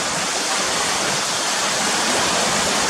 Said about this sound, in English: I'll pan back round now and show you where the river's running down